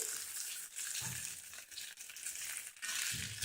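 Lady's fingers (okra) shallow-frying in a little oil in a pan give off a steady, close, dense sizzling hiss with small crackling pulses, heard alone without any talking.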